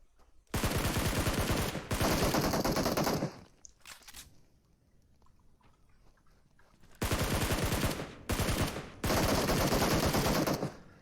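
Rapid bursts of automatic gunfire in a PUBG Mobile firefight on the Miramar map, loud and close, in three or four long volleys separated by a quieter lull with faint scattered footstep-like sounds.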